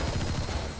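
Rapid gunfire in the video game Metal Gear Solid V rattles as a dense, continuous burst of loud, booming shots filling a short moment.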